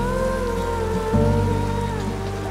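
Steady rain falls in a dramatic indoor-outdoor scene, a continuous close wash of drops on surfaces with a low hum and a slight surge midway, no voices present.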